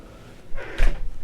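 The ensuite toilet door on a 2020 Mangusta 54 Gransport superyacht swings shut with a single soft, close thud and a short latch click, with no talk over it.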